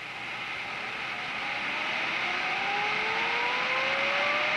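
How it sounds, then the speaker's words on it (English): Jet engine turning over on starter air before ignition, a steady broadband rush with faint tones slowly rising in pitch as it spins up, growing gradually louder. "Pre-start motoring of the engine serves both as an inspection phase and to prime the engine systems."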